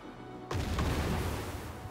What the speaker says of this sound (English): I'll use the mortar.